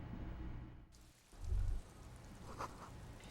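Rain falls steadily in the video game Disco Elysium, a soft continuous hiss of drops with a brief low rumble partway through, with no talk.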